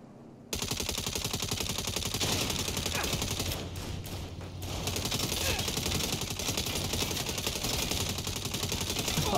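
Sustained automatic gunfire fills a drive-by shootout in the Saints Row reboot video game, dense, loud and continuous rattling bursts layered over one another with scarcely a pause.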